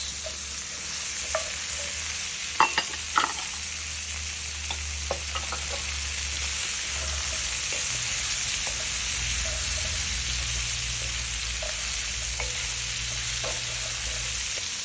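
Onions and carrots fry with bacon in a pot for boeuf bourguignon, giving a steady, broad sizzle with a few early clinks and stirring scrapes, then an even hiss.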